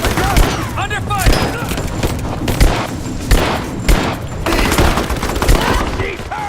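Rapid, loud gunfire in the Tomb Raider video game, with dense overlapping shots and thuds under game voices calling out in the middle of the firefight.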